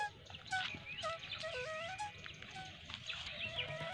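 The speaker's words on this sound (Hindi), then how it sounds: "यही पेड़ में सारा चिड़िया है जो आवाज़ कर रही है।" Many birds chirp and whistle together in a tree in the morning, varied, overlapping calls in a busy chorus nearby with soft rustling underneath.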